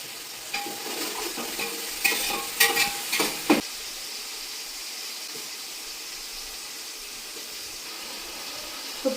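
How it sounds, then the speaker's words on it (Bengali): Onion, green chili and tomato frying in a pan at home, with a few sharp stirring scrapes and sizzling bursts early on, then settling into a steady, quieter hiss. "পেঁয়াজ, কাঁচামরিচ আর টমেটো ভাজা হচ্ছে"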